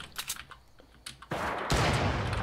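Video game gunfire crackles in a few scattered shots, then breaks into a sustained, loud burst of rapid automatic fire.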